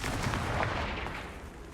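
Confringo, a fiery explosive spell in Hogwarts Legacy, bursts as a low, rumbling boom that rolls on through a dull, fading roar.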